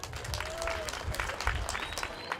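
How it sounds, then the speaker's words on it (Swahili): Applause for a teacher at a school gathering, with a crowd clapping steadily and fairly close. Faint voices carry underneath. "Makofi ya mwalimu."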